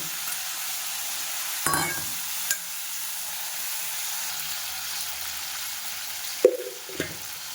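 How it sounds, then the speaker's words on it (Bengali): A few mustard seeds fry in a pan of hot oil with a steady close sizzle, broken by a handful of sharp pops and splutters, with no voices. "দুই চার দানা সর্ষে সর্ষে ফুটবে"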